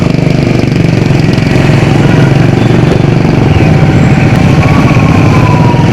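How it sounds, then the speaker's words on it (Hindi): A motorcycle brought from Punjab, ridden on a mountain road near Karnaprayag, holds a loud, steady engine and exhaust drone throughout, with no talk over it. "एग्जॉस्ट नोट तो काफ़ी खतरनाक है इनका।"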